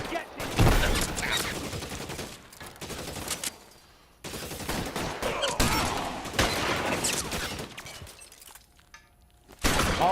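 Gunfire in the LA Noire video game: repeated bursts and sharp shots, loud and close, breaking off into short pauses before another burst near the end.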